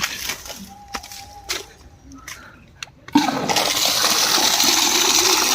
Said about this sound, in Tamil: தண்ணி ஃபுல்லாக இருக்குது வேணால் தெரிப்பு விடுறேன் பாருங்கள்